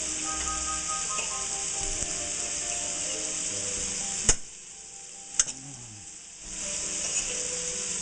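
Butter sizzles steadily in a frying pan while pork cooks, a close, continuous hiss that drops away briefly midway, with a couple of sharp clicks, before surging back.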